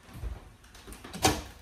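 A microwave door in a home kitchen opens or closes with a single soft thud and clatter near the end, after a short stretch of quiet room noise and low rumble.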